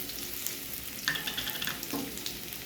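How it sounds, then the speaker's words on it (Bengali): Cumin seeds sizzle and crackle in hot oil beside lightly fried vegetables pushed to one side of the pan, a steady close frying hiss broken by brief scraping stirs, with no talk. "সাদা জিরে ফোড়ন দিলাম"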